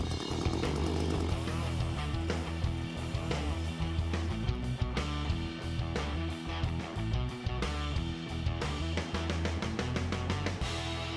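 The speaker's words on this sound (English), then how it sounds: "I'm going to start my chainsaw up, clear my area" An Echo gas chainsaw roars loudly and steadily up close, its engine revving and bogging in uneven surges throughout.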